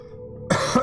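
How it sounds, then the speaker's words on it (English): A person coughs with bits of pork pie caught in the throat, giving two or three harsh, close bursts after a quiet room hum, with no talk. "I've got bits of pork pie stuck in my throat. It's making me cough."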